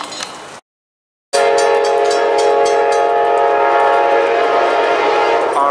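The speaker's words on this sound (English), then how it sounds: "Here comes another train. Leaves an Amtrak southbound" A southbound Amtrak passenger train passing close by, its horn sounding a long, loud, sustained chord over the rumble and rattle of the cars after a brief gap of silence.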